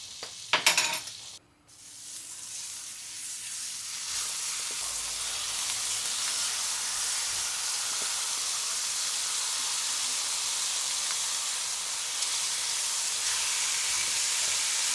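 Three bacon rashers fry in a pan with a steady, loud sizzling hiss that runs unbroken for the whole stretch after a brief clatter at the start.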